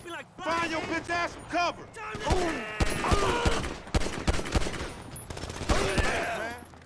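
Gunfire in Grand Theft Auto V comes as a rapid burst of sharp shots, then a run of spaced, loud cracks, with someone speaking in between.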